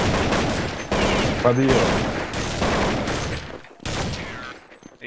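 Rapid gunfire bursts in a Counter-Strike match on the dust2 map, loud and close, with several volleys over a few seconds while players talk over the shots.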